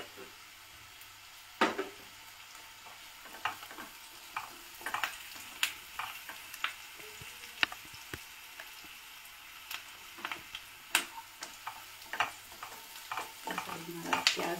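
Onions sautéing in a pan in a home kitchen, a soft steady sizzle with frequent clinks and scrapes of a spoon stirring, all fairly quiet and close.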